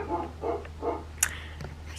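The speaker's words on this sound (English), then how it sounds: "There's my dog just barking away." A pet dog barks indoors, giving a few sharp barks at a steady pace, moderately close, with a short click and other faint household noise between them.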